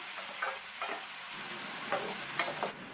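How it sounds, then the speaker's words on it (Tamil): Tomato and onion fry in a pan with a steady sizzle and a few soft scraping stirs, close and continuous, no voices. "இந்த தக்காளியையும் லைட்டாக வதக்கி விட்டுக்கலாம்."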